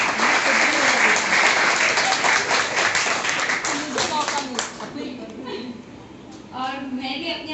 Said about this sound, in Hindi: आप लोग एक बार जोरदार तालियां बजाएं।